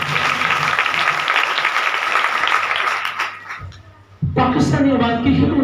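Loud congregational applause at a church gathering, dense clapping that fades out, then a voice speaks briefly as a cheer or chuckle rises.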